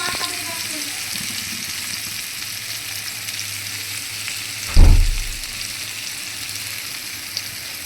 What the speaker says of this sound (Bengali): এবার দেখো আমার এই চিংড়িটা কিন্তু আলুগুলো কুমড়োগুলো করে নরম হয়ে গেছে, ভাজা ভাজা হয়ে গেছে